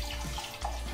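Liquid, likely coconut milk from a can, poured into a pot while making Filipino maja blanca with corn, a steady close splashing flow that runs for about a second with a brief dip in the middle.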